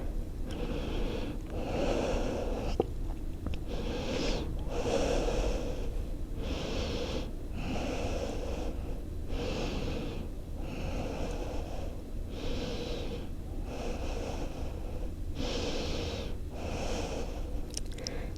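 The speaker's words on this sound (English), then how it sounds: "You're breathing wherever you are." Slow, deep breaths during a yoga stretch, with a dozen or so airy inhales and exhales in an even rhythm, close to the microphone and heard alone.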